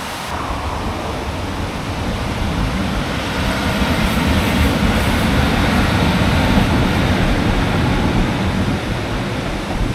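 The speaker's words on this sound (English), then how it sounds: "a lovely waterfall as well" Waterfall near a railway station by stone arches, a steady, broad rushing roar of falling water, continuous and fairly loud throughout with no voices.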